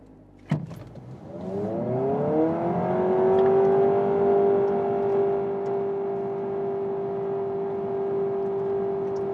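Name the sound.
Honda Prelude e:HEV accelerating 0 to 100 km/h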